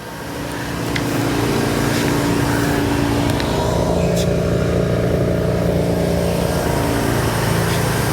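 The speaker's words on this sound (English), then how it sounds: "I just kept cranking it, and it started right up" A Mazda RX7 rotary engine idles steadily after being cranked back to life, a loud, continuous close-up running drone with no talk over it.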